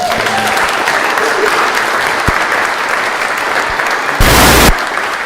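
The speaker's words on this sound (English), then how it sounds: "So one more round of applause for Nick." Audience at a Mile of Music festival lineup announcement applauds steadily throughout, a dense continuous clatter of many hands, with a brief louder burst of cheering near the end.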